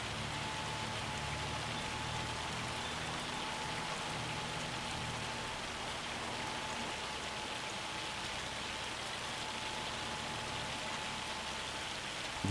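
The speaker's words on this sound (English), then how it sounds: "I chose to do it in the hailstorm" Hail pelts a crop field during pea planting in a steady, dense hiss of impacts, with a low farm machine hum beneath, continuous and fairly loud with no talk.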